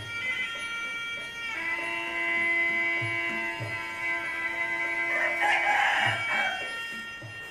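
A rooster crows in long drawn-out calls near young chickens, the crow rising clearly above soft scattered clucks and ambient noise, with no talking.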